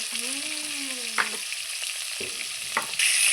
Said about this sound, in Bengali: এই যে শোল মাছটা আমি খুব সুন্দর উল্টো পাল্টা খুব সুন্দর করে লাল লাল করে ভেজে নিচ্ছি।